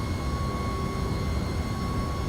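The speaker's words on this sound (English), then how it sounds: "they fixed the engine sound from the interior" An MD-11 airliner's engines drone steadily inside the cockpit in the X-Plane 11 flight simulator, a continuous low rumble with a faint high turbine whine, even and unbroken with no talk.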